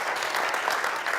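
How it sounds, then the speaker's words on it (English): Audience applause at a federation presentation, a dense steady wash of many hands clapping at moderate distance for about a second, no voices. "a round of applause, I think, for the people who have done this"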